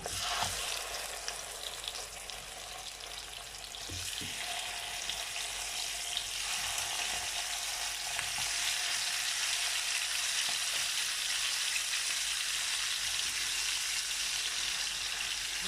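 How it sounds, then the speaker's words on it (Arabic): Chicken drumsticks sear in hot oil with spoonfuls of ghee, giving a loud, steady frying sizzle that runs throughout with a few small clinks and stirring knocks. "هبدا انزل دبابيس الفراخ تاخد كده تشويحه من على كل جانب"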